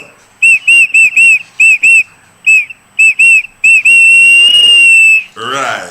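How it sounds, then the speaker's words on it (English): A whistle blown in a run of short sharp blasts, ending in one long sustained blast, loud and close, then a brief noisy burst. "Blow the whistle and go."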